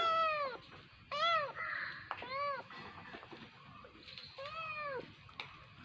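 Repeated high-pitched kitten mews, several short cries close by, some quick and some stretched, with faint background noise between them.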